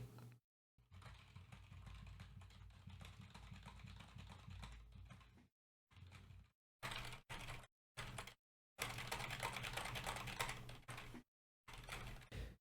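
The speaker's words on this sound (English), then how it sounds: "Now I will show you how it sounds when I'm typing something on the keyboard." Rapid keyboard typing, close and quiet, comes in uneven bursts with short pauses between them; no one speaks.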